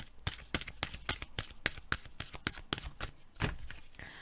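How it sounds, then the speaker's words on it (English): Tarot cards being shuffled by hand, a steady run of crisp riffling slaps and flicks close up, with one card flipping loose near the end; no voices. "I saw this card flip up"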